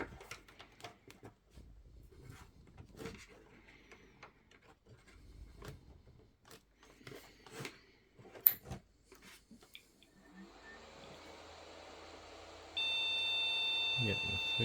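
A mini Pentium PC with a suspected memory fault beeps at startup; after scattered clicks and handling knocks, a steady electronic beep tone sounds toward the end.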